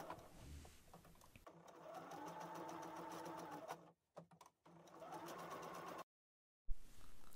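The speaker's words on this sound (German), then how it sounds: "und einmal rumnähen" A sewing machine stitches around a fabric Christmas gift bag, whirring close up in two runs of rapid, even needle strokes separated by short stops and silence.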